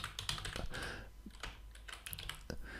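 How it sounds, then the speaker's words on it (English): Typing on a computer keyboard while working in Maya: a quick run of close, soft key clicks in an irregular rhythm, with no voices. "let's type in material"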